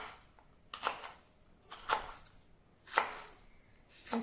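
A knife cuts bell pepper into rings on a board for a Moroccan fish tagine with chermoula: three or four crisp, separate chops about a second apart, close and clear against a quiet kitchen.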